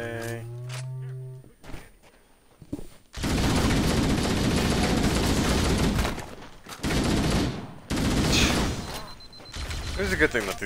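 Sustained automatic gunfire from Halo: Combat Evolved, loud bursts running several seconds with short gaps, preceded by a brief musical tone and quieter mechanical clatter.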